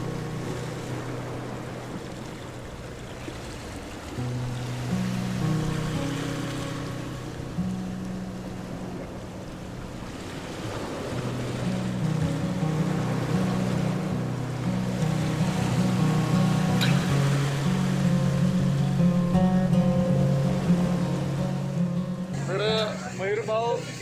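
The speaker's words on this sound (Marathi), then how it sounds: "आणि ह्या लाटा बघा" Flood-swollen waves surge and crash continuously at Bahe near Ramling islet, a steady roaring wash swelling louder in the second half, with a low engine hum and voices talking over it.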